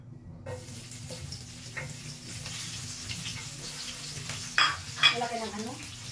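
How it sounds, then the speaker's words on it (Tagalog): Garlic sizzles softly in hot oil in a pan, with occasional utensil clinks and scrapes, and a pair of sharper metallic knocks near the end, close and fairly quiet. "Pag mainit na ang oil guys, ilagay na natin yung bawang."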